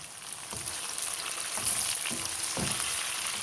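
Tofu and pork frying in a non-stick pan and being flipped, a constant crackling sizzle broken by several soft thuds and scrapes as the pieces are turned.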